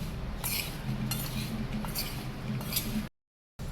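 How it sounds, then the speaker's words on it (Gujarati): Okra tossed with spices and lemon juice in a bowl for Marwari-style masala bhindi, giving soft repeated clinks and scrapes of a utensil against the bowl over a low steady hum, ending in a brief silence. "હવે બધું મિક્સ કરી લઈશું."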